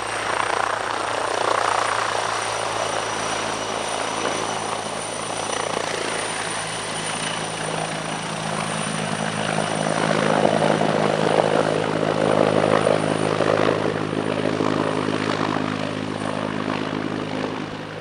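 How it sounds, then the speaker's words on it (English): A TAI T129 ATAK attack helicopter flying at the Farnborough airshow, its steady rotor thrum and turbine whine loud and sustained, swelling slightly as it passes, with no talk. "This is the T129 Attack, a multi-role attack helicopter based on the Augusta A129 Mangusta"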